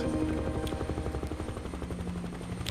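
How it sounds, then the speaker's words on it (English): A helicopter in a video game hums with a steady rotor drone and a fast chop that fills the whole stretch, with no one speaking. "Dude, I'm so bad at flying a helicopter. But it's so fun to fly this around."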